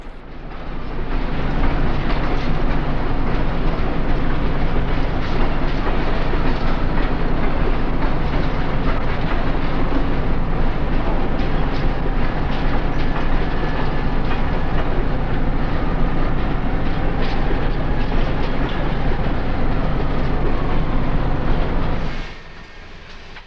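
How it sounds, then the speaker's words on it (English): A southbound City of New Orleans passenger train on the Illinois Central rolls steadily past in the 1970s Chicago southwest suburbs, with a loud, sustained rumble and clatter of cars that cuts off abruptly near the end. "First up is the southbound City of New Orleans."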